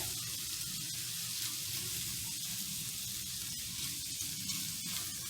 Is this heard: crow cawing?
no